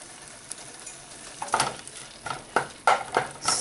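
Ginger julienne and green chilies fry in melted butter while a spoon stirs them, giving a soft sizzle broken by several close scraping strokes through the pan.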